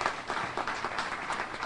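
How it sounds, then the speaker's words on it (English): Audience members at a press conference in the Hickey Freeman clothing plant in Rochester give Steve Granofsky a round of applause, a soft, steady patter of clapping from a modest crowd, with no voices over it. "So let's have a round of applause for Steve Granofsky."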